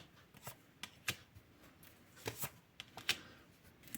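Playing cards are shuffled and handled in quiet, scattered bursts of soft riffling and snapping, close and fairly faint.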